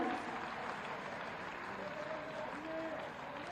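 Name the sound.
audience applause at a scholarship ceremony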